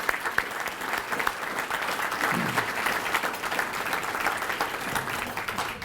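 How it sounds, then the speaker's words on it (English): Sustained audience applause fills a hall at an awards ceremony, a dense, steady wash of many hands clapping at moderate loudness with no speech over it. "I think he should have a special round of applause."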